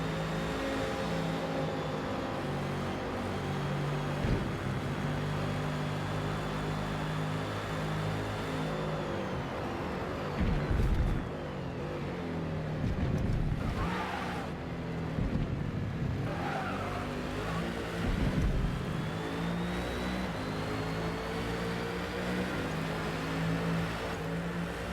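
Onboard race car engine audio from a Forza racing game at Spa during an endurance race, a loud, continuous high-revving drone that shifts pitch through gear changes, with brief tyre squeals and other cars surging past.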